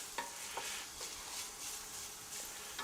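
Onions softening in a pan, stirred with a wooden spatula, a quiet, even sizzle with a few light stirring taps scattered across it, soft and close, no voices.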